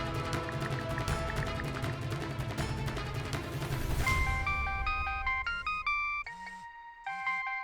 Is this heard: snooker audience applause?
no